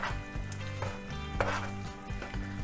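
A spoon works cream into paneer masala in a pan, scraping and knocking against the metal in a quick, regular rhythm, close and moderately loud.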